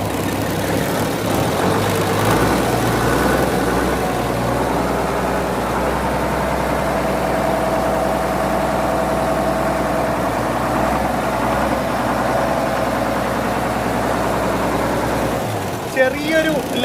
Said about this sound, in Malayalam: ഓടിക്കണതിന് മുമ്പ് ഇവൻ്റെ എഞ്ചിൻ സൗണ്ട് ഒന്ന് കേൾക്കണ്ടേ